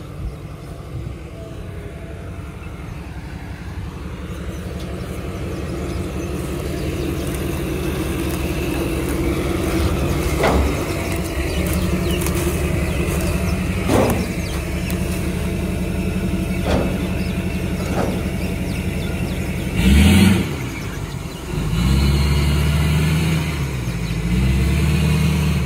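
A Ripsaw tracked vehicle's engine rumbles steadily as it drives off a trailer, building gradually and revving in short bursts, with a louder surge near the end.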